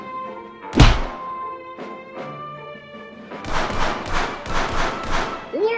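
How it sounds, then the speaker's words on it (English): A hard high five slap in The American Dream VR game lands as one sharp, loud smack near the start, followed by a brief thump and then a busy stretch of clattering game noise and music. "That's a strong high five you got there."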